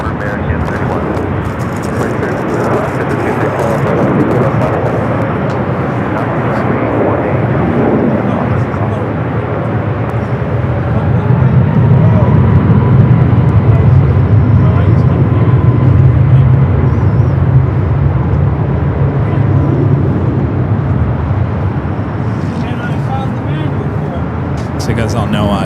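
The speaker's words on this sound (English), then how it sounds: "24 left, clear for takeoff for American 31." An Airbus A321neo jet takes off at LAX, a deep broad roar that builds and swells in the middle before easing off, heard at a distance with a person talking over it.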